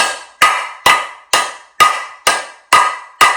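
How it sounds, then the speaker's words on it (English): Eight sharp hammer blows land at a steady pace, knocking a stubborn part loose on a Herman Miller Aeron office chair, each a loud metallic-wooden strike with a short ringing decay, close by. "So you're just going to take a hammer"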